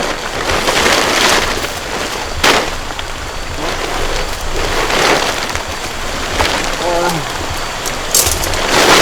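Steady rain patters on a jungle campsite during the rainy season, a dense continuous hiss with a few sharper drip or splash transients scattered through; a brief voice-like tone surfaces faintly near the end.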